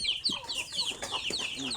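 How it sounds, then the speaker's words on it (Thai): A fighting rooster on a pig farm clucks in several short, close, fairly loud calls, with soft farmyard ambience around it. "เนี่ยไก่ชน"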